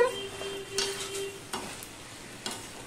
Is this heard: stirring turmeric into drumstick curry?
yes